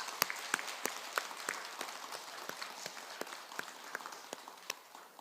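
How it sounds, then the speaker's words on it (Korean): An audience at Bongeunsa temple claps in a steady, moderately paced run of distinct, sharp hand claps that rise above a quiet room tone and gradually thin out. "격려의 박수 한번 부탁합니다"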